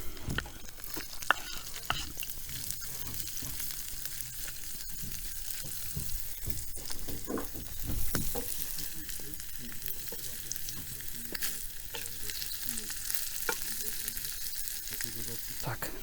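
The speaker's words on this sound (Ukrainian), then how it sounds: "Цибуля трохи обжарилася." Chopped onion fries in a pan over a campfire in a wild forest, giving a steady, close, crackling sizzle that runs throughout with small stirring clatters.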